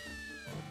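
Short cat-like cry from a feline Pokémon in Pokémon Ultra Moon, a brief tonal call over game music, fairly close and moderately loud.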